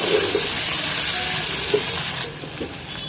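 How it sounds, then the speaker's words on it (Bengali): Raw potato pieces with salt and turmeric fry in a pan to brown, giving a steady, close sizzling hiss that softens slightly toward the end. "এবার আলুগুলোকে একটু ব্রাউন কালার করে ভেজে নেব"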